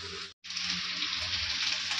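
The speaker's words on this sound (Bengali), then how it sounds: "তো শাকটা ভাজা হয়ে যাক" Red amaranth greens fry in a pan with a loud, steady crackling sizzle that breaks off briefly near the start, then resumes without pause.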